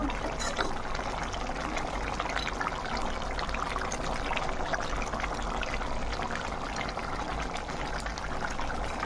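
A pot of mutton curry bubbles and simmers steadily, a soft continuous gurgling and sputtering with no voices.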